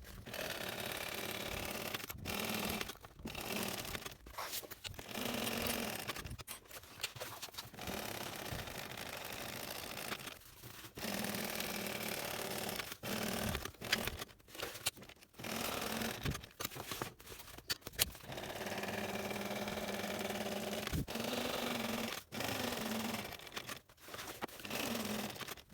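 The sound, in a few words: sewing machine sewing a backpack strap seam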